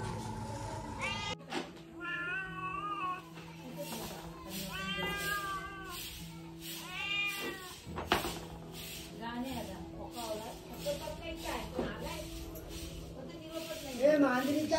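Several cat meows ring out in a village lane on a Konkan evening, repeated mid-distance calls rising and falling over steady background ambience, with people talking now and then.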